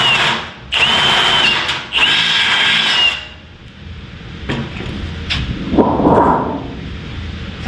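A drill bit bores through thin aluminum door panel skeleton stock in a few loud whining bursts, with quieter handling and clatter afterward.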